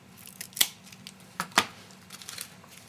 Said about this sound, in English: I like to cut this big chunk off